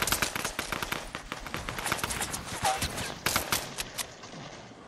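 Rapid SMG gunfire bursts in a Fortnite battle royale match, dense clusters of sharp shots rattling through most of the stretch with constant game noise behind.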